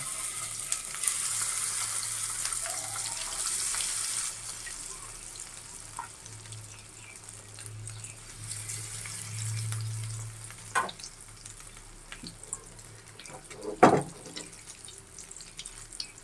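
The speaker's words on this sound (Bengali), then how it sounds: "এখন আমি এগুলি তেলের ভিতর ছেড়ে দেব" Rohu fish pieces fry in hot oil with a steady, close sizzling hiss that continues throughout, broken by a few sharp clatters near the end and no talk.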